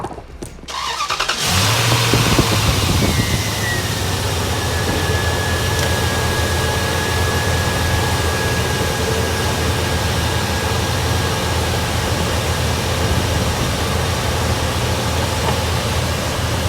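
A Dodge 1500 pickup engine cranks and fires after a brief quiet moment, then settles into a loud, steady idle with a constant fan whine carrying on alone for the rest of the clip.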